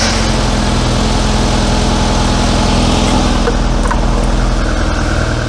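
A Classic Mini engine idling after an oil change, a loud, steady low rumble with a rapid even pulse, running continuously with no voices.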